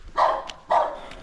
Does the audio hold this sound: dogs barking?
yes